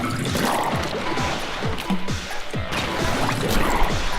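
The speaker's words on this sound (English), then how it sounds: "Shoot ink and then it makes a little trail for you to go across." Ink fires repeatedly in the Splatoon video game, making wet splatting and squishing bursts in quick succession. The liquid sounds stay dense and fairly loud throughout, and no speech is heard.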